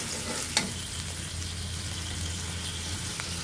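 Peanuts fry in a pan of oil with potatoes and taro for a potato curry. The close sizzle is steady, with a stir or clink near the start, and no one speaks.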